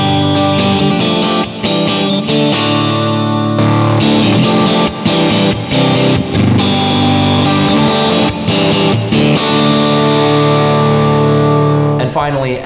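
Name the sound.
Music Man JP15 electric guitar with gain boost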